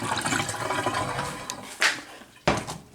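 Water runs from a kitchen tap into a cooking pot of small Yukon gold potatoes, a steady nearby rush broken by two sharp splashing knocks near the end, with no voices.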